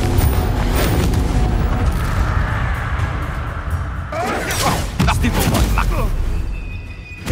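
Confringo fire spells explode during combat in Hogwarts Legacy, with booming blasts and crackling bursts over a dense, continuous wash of game noise and music.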